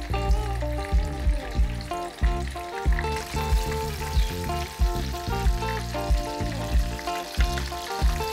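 Breaded meatballs frying in oil heated to 160-170 degrees, a steady close sizzle with a regular pulsing crackle running throughout and no talk.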